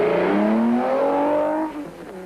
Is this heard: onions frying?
no